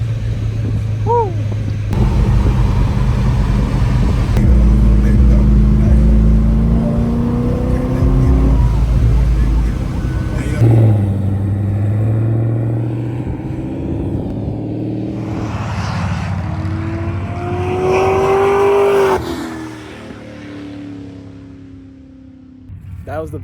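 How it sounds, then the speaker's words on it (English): A ProCharged C6 Corvette flies past, its supercharged engine roaring close and loud with rising and falling pitch as it accelerates by, with other traffic, including motorcycles, and excited voices around it. "That was the best flyby I've ever recorded in my entire life."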